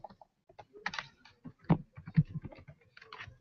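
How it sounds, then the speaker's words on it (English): Fingers typing on a computer keyboard during a coding workshop, irregular clicking keystrokes in uneven bursts, close to the microphone with no talking. "You don't have to follow what I'm typing exactly."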